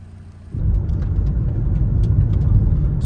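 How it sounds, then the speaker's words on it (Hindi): A car on a gravel road near Lake Minnewanka in Banff rumbles up loudly and steadily, with faint scattered ticks of small stones striking the body. "छोटे छोटे पत्थर हैं, गाड़ी को लग रहे हैं बार बार।"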